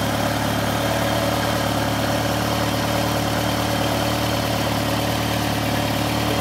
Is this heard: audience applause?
no